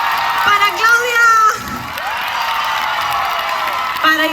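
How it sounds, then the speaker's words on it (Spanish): A concert crowd at an outdoor music festival in Culleredo, A Coruña, cheers, whoops and applauds loudly throughout, with shrill voices rising over a continuous roar of clapping. "Quiero pedir un fuerte aplauso para Sasa, para Claudia,"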